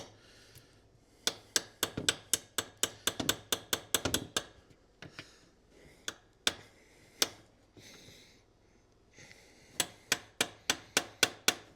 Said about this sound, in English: I might even take my hammer and reset that bushing just a little bit.